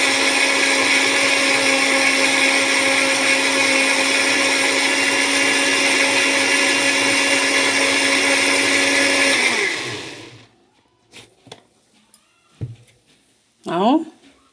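A blender whirs loudly and steadily for about ten seconds, churning butter with milk and oil, then cuts off; afterward there are faint clinks and a person speaking briefly nearby.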